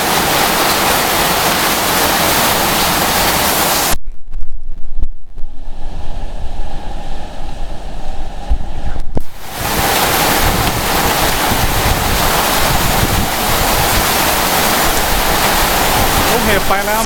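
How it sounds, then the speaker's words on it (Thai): Strong wind roars in a summer storm just after hail, a loud, continuous buffeting rush against the microphone that drops away for a few seconds mid-way before returning at full force. "ลูกเห็บไปแล้วเนี่ยลมเริ่มมาแล้วลูกเห็บลงเสร็จลมเริ่มมาแล้ว"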